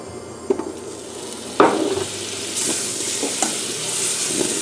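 Butter melts in a pan over medium-low heat, with a quiet hiss that becomes a steadier sizzle after a sharp clatter, punctuated by a few utensil knocks.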